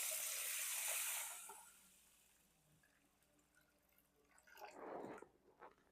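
Water poured into a bowl of soaking rice, first a brief bright splashing pour, then quiet, then a second short trickle and drip near the end, close and fairly soft.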